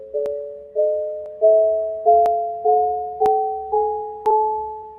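Synthesized tones ring out as two-note chords, eight of them in even succession, each struck sharply then fading, stepping gradually upward in pitch.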